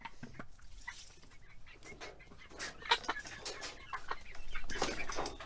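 Backyard chickens cluck and chatter softly at close range, with scattered short calls and rustling that grow denser and louder toward the end.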